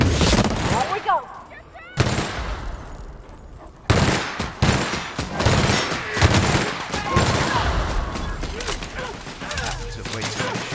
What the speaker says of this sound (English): at least we can pick up ammo for the other guns while we're firing this one